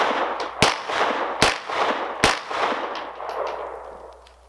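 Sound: rapid-fire gunshots from a Springfield Ronin 1911 9mm pistol

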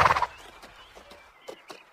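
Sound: horse neighing

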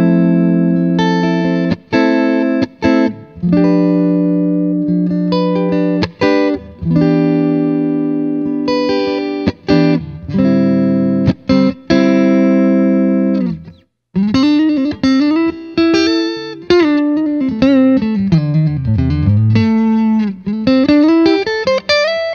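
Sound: No Brand electric guitar through amp, clean and distorted tones

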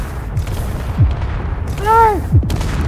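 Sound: automatic turret shooting at player in Space Engineers video game

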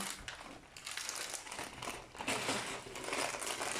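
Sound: opening the plastic bag of Lego orchid set number one

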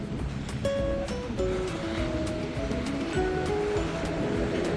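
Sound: strong wind

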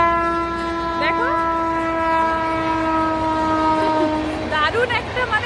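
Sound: train passing in the distance

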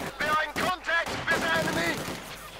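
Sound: gunfire from Company of Heroes 2 video game battle

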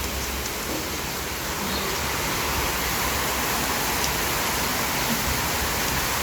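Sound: rain falling, heard from a balcony

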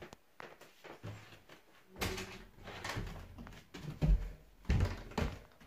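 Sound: door of a safe house being locked in a video game

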